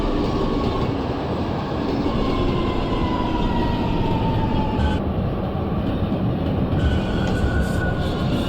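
A simulated MTA IND R179 subway train on the C line runs in the OpenBVE train simulator game, a loud steady rumble of wheels on rails with faint whining tones and occasional clicks, with no voices.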